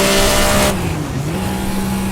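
Race car engine in Assetto Corsa, a loud steady drone with a pitch that sags and then holds, the car running without brakes toward a corner. A bright burst fades out early, leaving the engine note alone.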